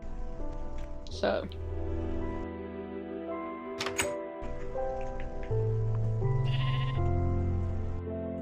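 Sheep bleating in the video game Minecraft, with a few short bleats rising over a steady rain-like background hiss and some soft clicks.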